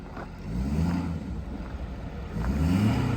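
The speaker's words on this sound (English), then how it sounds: "Here the engine sounds great though." A 2012 Ford F-450 four-wheel-drive crane service utility truck idles steadily, a low continuous engine rumble with slight swells in level, heard close with some wind noise and no talk.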